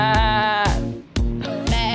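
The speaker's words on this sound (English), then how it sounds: "It's a black sheep." A sheep in the English countryside near a limestone gorge gives loud, close, wavering bleats, three or four calls in quick succession with brief pauses between them.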